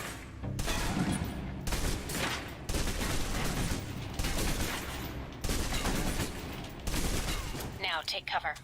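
A submachine gun is fired full auto in the video game Alpha Protocol, with dense rapid gunfire bursts broken by short pauses, loud and close, and a voice talking underneath.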